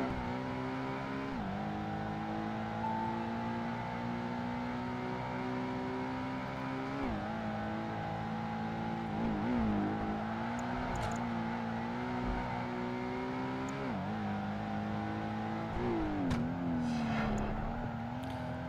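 A Porsche engine in Project Gotham Racing 2 drones steadily through a race, and its pitch rises and falls with each shift and corner.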